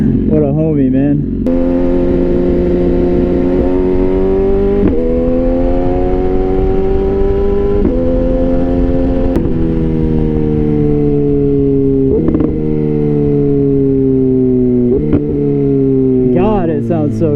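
A retuned BMW S1000RR sport motorcycle engine revs and pulls hard while riding, loud and close, its pitch climbing and dropping through several gear changes over steady wind rush, with brief sharp blips near the start and end.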